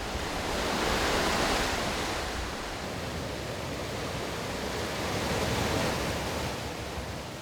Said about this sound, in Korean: 성난 파도는 성이 난 대로, 잔잔한 파도는 또 그런 대로 오랜 세월 공들여 바위를 어루만지고 깎았을 테지요.